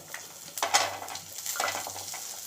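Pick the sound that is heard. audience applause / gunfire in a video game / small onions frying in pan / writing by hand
small onions frying in pan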